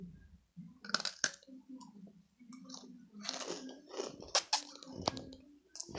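Close, quiet chewing and crunching of microwaved Oreo and s'mores cookies, with irregular crisp clicks and bites mixed with soft mouth sounds and brief murmured voice.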